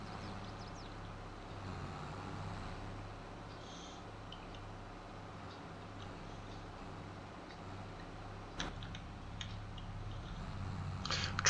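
A tractor with a grass collector drives across a field in Farming Simulator 22, giving a steady low engine drone throughout with a couple of brief clanks near the end.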